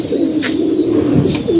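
Four female pigeons coo nearby in low, steady murmuring calls, loud and continuous with no voices.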